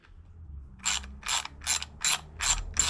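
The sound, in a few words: ratchet tightening air cleaner on Harley-Davidson Softail Slim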